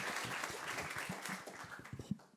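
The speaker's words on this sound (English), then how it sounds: "let's give her a round of applause" A room full of people applauding, steady clapping that gradually thins out and fades toward the end.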